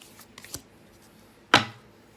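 Tarot cards are shuffled quietly by hand, with a few soft papery flicks followed by one sharper riffle burst, close and faint against a low background hiss.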